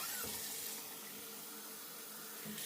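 Hot water runs steadily from a tap, making a continuous close rushing splash that lasts throughout with no speech.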